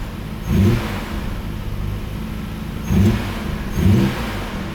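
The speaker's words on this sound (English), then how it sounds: "Just gonna tap the throttle here." Nissan R32 GTR engine with Apexi intakes blips its throttle three times, each short rev rising over a steady idle with a faint intake whistle, close and fairly loud.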